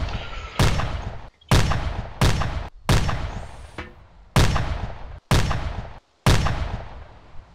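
Artillery guns fire round after round in Arma 2, seven loud booming blasts spaced roughly a second apart, each trailing into a rumbling decay.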